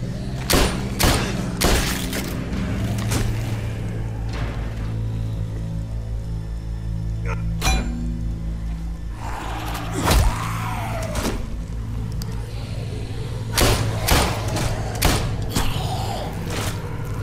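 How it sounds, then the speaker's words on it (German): Gunfire in The Walking Dead video game: several sharp, loud shots in short bursts, separated by quieter stretches of low rumbling game ambience. "Das waren jetzt 6 Schuss."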